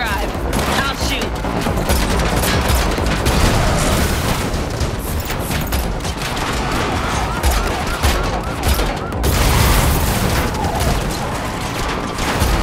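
Heavy gunfire during a car chase in the video game The Matrix Awakens, a loud, dense, continuous stream of shots and impacts over roaring action sound lasting the whole stretch, with a voice briefly talking.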